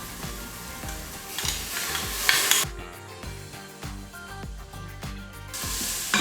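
Onions, ginger and garlic sizzling in an Instant Pot, a soft crackling fry broken by repeated scraping and stirring strokes of a spoon against the pot, close and continuous.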